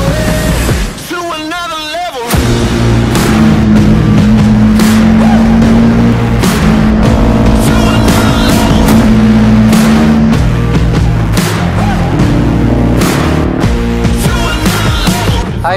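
Kawasaki sport bikes such as the ZX-10R, ZX-6R, ZX-25R, Ninja 400 and Z650 race on a track-day circuit, engines roaring loudly and continuously with rising and falling revs, after a brief dip near the start.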